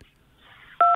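A phone emits a loud, sharp electronic beep, a single steady dual-tone burst near the end, over faint room noise during a live political broadcast interview.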